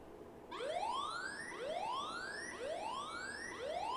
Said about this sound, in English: Okay, so in this way the siren will play.